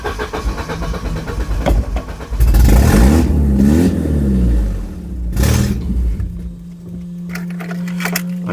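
A Volvo 740 rescued from a scrapyard runs and revs, its engine surging loudly before settling back to a steady idle, close by with no talk.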